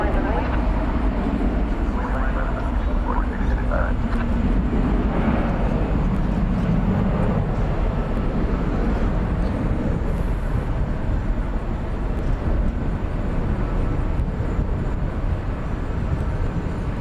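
Airliners taking off at DFW Airport at night, heard as a loud, continuous broadband jet roar that holds steady throughout, mixed with distant rumble from the airfield.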